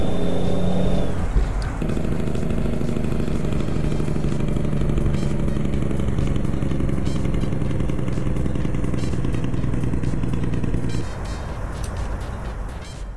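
Truck engine from an engine and sound mod pack for American Truck Simulator 1.40, a loud, close, rumbling diesel drone with clattering ticks, steady for most of the clip before dropping in level near the end.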